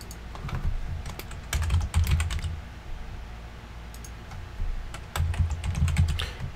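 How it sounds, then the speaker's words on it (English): Typing on a computer keyboard while searching a Windows 10 control panel: brisk bursts of close key clicks with short pauses between them, no voice over the tapping. "you're going to type mouse."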